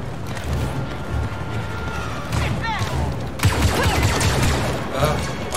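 Bursts of blaster gunfire from the video game Star Wars Battlefront II: a fairly steady din that grows into a denser, louder volley of rapid shots and impacts in the second half, mixed with other game effects.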